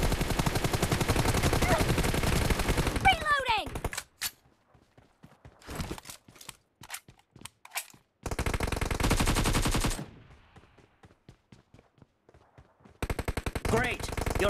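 Rapid automatic gunfire in a BGMI team deathmatch rattles in long loud bursts separated by gaps of scattered single shots and faint footsteps, with brief bits of voice mixed in.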